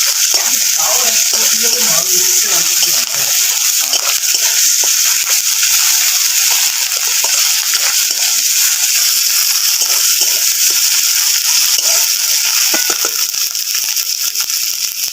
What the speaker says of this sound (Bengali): ভালো করে আদা রসুনটা ভেজে নেবো